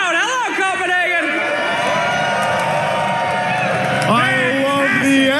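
Crowd cheering and roaring in the arena at the Dota 2 TI23 grand finals in Copenhagen, a steady loud wall of noise under continuous close talk.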